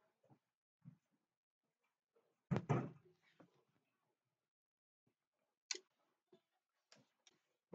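A door pushed shut in a quiet room, landing as one solid thud with a brief rattle midway, surrounded by sparse faint clicks and small knocks.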